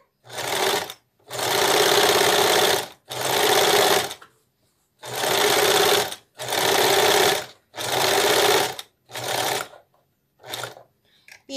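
A noisy home sewing machine runs a straight seam on baby skirt fabric in loud, steady bursts, stopping and restarting about seven times with short pauses between runs.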